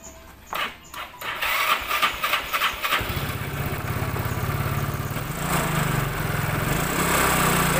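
A Yamaha Mio Sporty scooter that is thirsty on fuel and down on power cranks with a few short starter bursts, then catches and settles into a steady, close idle that rises slightly near the end, with no talking.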